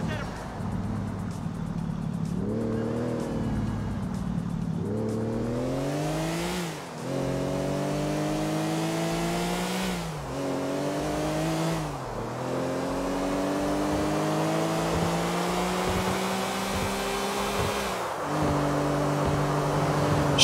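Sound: car driving in the video game GTA 4

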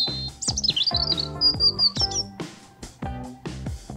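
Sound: robin singing

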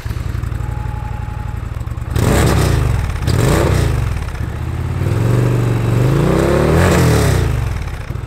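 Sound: Indian Pursuit motorcycle V-twin engine revving

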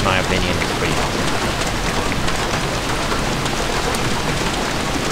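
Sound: rain at night in the video game Black Shades

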